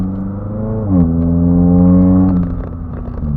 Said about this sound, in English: as you guys can hear, like I said, it's got a race exhaust